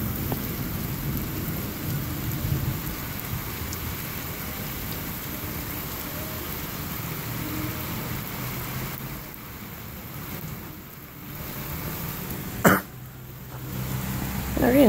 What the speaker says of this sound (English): They're getting a lot of rain.